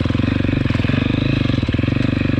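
A KTM 250 XC-F motorcycle engine running, a rapid, steady thumping pulse with a mechanical clatter, close and loud, holding an even idle throughout.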